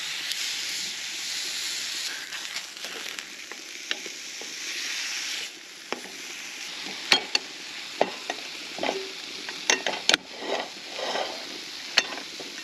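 Steaks sizzle and hiss in a pan over a camp stove outdoors, a steady close frying crackle with sharp pops and spits scattered throughout.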